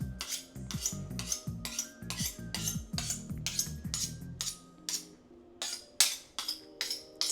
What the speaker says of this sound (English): So I kind of have to sharpen them literally every time I use them.